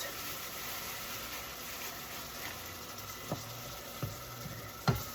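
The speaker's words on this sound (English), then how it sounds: "And the hamburger is just about cooked" Hamburger meat frying in a pan for black bean and smoked beef rib chili, a steady broadband sizzle throughout with a few sharp utensil scrapes and taps near the end.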